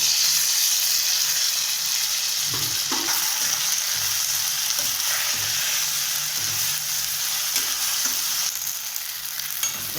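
Brinjal with ginger garlic paste sautés in hot oil for a spicy Indian gravy, a loud steady close sizzle and hiss with occasional stirring scrapes throughout.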